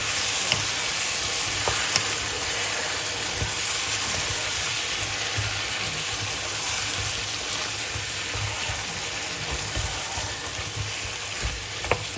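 Lamb caldereta frying after tomato goes in, a continuous close sizzle with scraping stir strokes and small clinks over several seconds, no talking.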